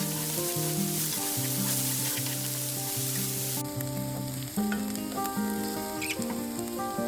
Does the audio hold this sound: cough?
no